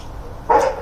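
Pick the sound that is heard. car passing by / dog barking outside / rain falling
dog barking outside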